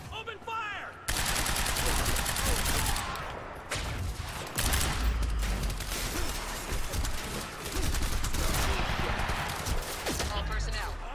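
Rapid automatic gunfire and overlapping shots fill a garage firefight in the video game Quantum Break, loud sustained bursts with short pauses between them.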